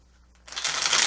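Tarot cards being shuffled by hand, a brief crisp riffling burst that starts after a quiet moment and builds to a close, fairly loud flutter.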